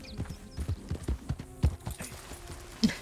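Horse hooves clip-clopping in the video game Red Dead Redemption 2, an irregular run of close thuds with a louder hit near the middle and another near the end.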